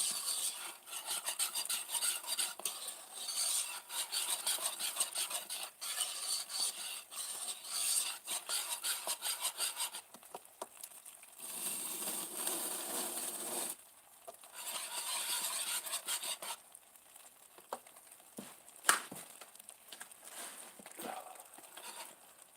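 A whisk scrapes and rasps steadily through thick fudge mixture in a pan, close and fairly quiet, with brief pauses and a few sharper knocks toward the end.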